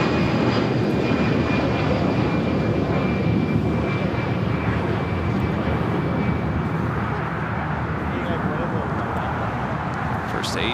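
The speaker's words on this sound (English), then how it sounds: "Next takeoff, Delta Airlines Flight 1143 heading to Houston, Texas, an A319." Steady, loud engine roar from a Delta Airlines Airbus A319 jet taking off at LAX, a continuous broadband rush that holds level throughout with a thin whine on top, while a voice talks faintly beneath it.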